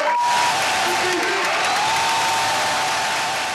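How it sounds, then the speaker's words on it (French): An audience applauds as a man arrives at a company's event, a steady loud wash of clapping that carries through with a faint voice and some tones over it. "mettre un tonnerre d'applaudissements pour l'arrivée de monsieur"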